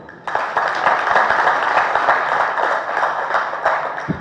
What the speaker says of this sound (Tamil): அதுக்கு திருப்பி ஒரு கைத்தட்டுங்க